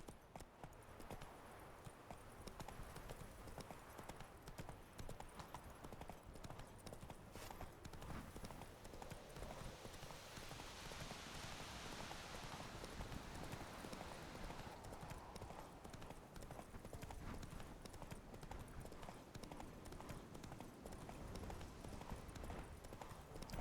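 Roach, a horse in the video game The Witcher 3, gallops in a steady, continuous rhythm of hoof clip-clops over a constant rumbling wilderness backdrop. The hooves run unbroken and moderately loud throughout.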